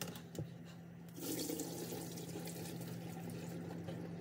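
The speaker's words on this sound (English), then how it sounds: "I think the pasta's ready now, so I'm gonna drain it." Cooked tagliatelle being drained in a kitchen sink, a steady rushing pour of water splashing into the basin that swells louder after a second and runs on continuously.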